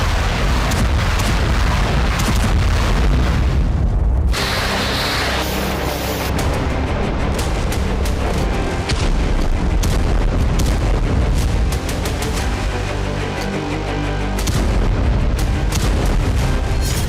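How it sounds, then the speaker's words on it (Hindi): Loud, heavy booms and rumbling blasts fill the clip continuously, with a sharper roar partway through, like explosions heard in a war zone, from air defenses and drone attacks over Kyiv. "कीव में कई धमाकों की आवाज सुनी गई।"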